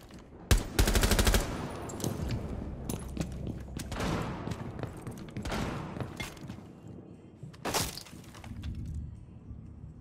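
Gunfire in the tactical shooter Rainbow Six Siege, opening with a loud rapid burst of automatic fire, then scattered sharp shots, cracks and impacts over a busy, noisy game mix.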